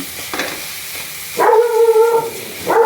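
A pet dog barks angrily in a kitchen, two short, loud barks close by over a faint, steady sizzle of garlic frying in a pan.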